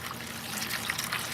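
Fluid trickles steadily out of the oil pan of an IMCA stock car engine during teardown, a soft continuous watery dribble heard close up with no talking.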